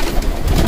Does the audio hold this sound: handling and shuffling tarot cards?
no